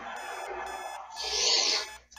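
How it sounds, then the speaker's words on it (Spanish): A digital alarm clock rings inside the DDLC mod A Day With Monika, a steady buzzing tone that swells loudly midway through and then cuts off near the end. "Que suena la alarma."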